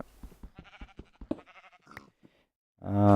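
Sheep bleating in the video game Minecraft, a single loud, close, wavering bleat arriving near the end after a stretch of quieter blocky clicks and game effects.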